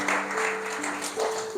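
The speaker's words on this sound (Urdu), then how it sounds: "آئیے خداوند کے لیے، اس کے جلال کے لیے زوردار تالیاں بجاتے ہیں" A church congregation at a sermon breaks into loud, sustained applause, a dense wash of clapping that holds evenly from start to finish and is heard alone.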